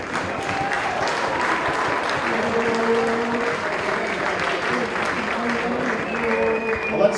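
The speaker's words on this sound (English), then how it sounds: "Give them a big cheer, ladies and gentlemen." A crowd at a football grand final applauds and cheers the Rockdale City Suns in a steady, dense wash of clapping lasting several seconds, with scattered voices and a speaker's talk mixed underneath.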